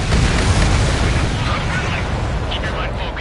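A missile launches in the Ace Combat 7 flight game with a loud, sustained roaring burst that slowly fades over a few seconds, with faint game radio chatter and tones near the end.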